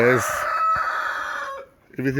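A rooster among Buff Orpington and Pekin bantam show chickens crows in one long, loud, close call, followed by a short burst of clucking.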